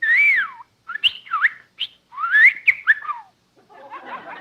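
A bird whistles a run of bright, swooping phrases, loud and close, broken by short pauses, ending in a softer scratchy chirp.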